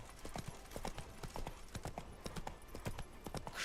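Hoofbeats of the horse Roach in The Witcher 3, a steady galloping clip-clop of evenly spaced, fairly close hoof strikes running throughout, with no voices over it.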